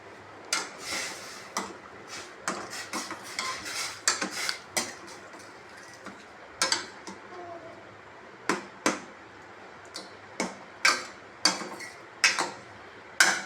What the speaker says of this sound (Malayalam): ഒന്ന് നന്നായിട്ട് നമുക്ക് ഇളക്കി കൊടുക്കാം.